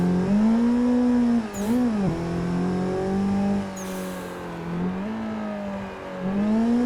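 A car engine in Assetto Corsa holds a steady high drone while drifting, dipping and rising in pitch as the revs shift, with a couple of brief tyre chirps and a slight swelling roar near the end.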